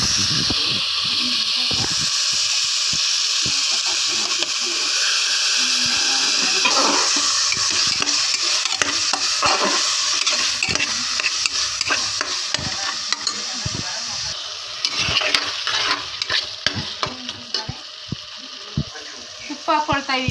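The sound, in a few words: stirring and frying khichdi with spices and tomato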